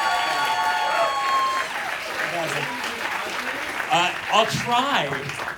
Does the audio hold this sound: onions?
no